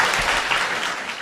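A studio audience claps for a lawyer, a dense, even round of applause sustained throughout.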